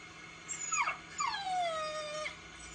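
A dog whimpers in a public service announcement, giving two or three high, sliding whines that rise and fall over a couple of seconds, close and fairly clear with no talking.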